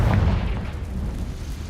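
A Confringo spell explosion in Hogwarts Legacy, a loud deep boom that rumbles on through the short moment without a break.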